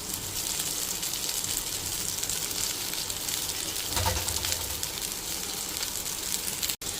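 Ragi vermicelli sautés with onions in a pan, a continuous soft sizzle with faint scraping of stirring, steady and close throughout.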